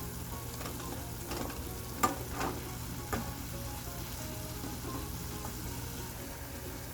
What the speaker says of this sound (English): red chili powder, some chili flakes. I'm going to mix them all well.